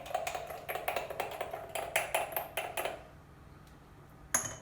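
A spoon stirs orange juice mixed with a quarter teaspoon of bicarbonate of soda, giving a quick run of bright, rhythmic clinks against the container that then stops, leaving near silence and one last tap.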